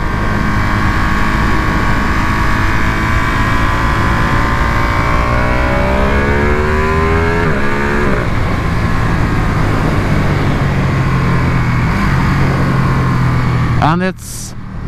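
A Ducati Panigale V2 sport motorcycle's engine roars steadily and loudly while riding, with one shift in pitch partway through and a brief change near the end.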